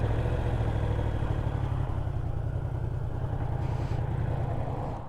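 A 2023 Yamaha R1 sport bike idles close by, a steady low engine hum that holds evenly throughout with no talking.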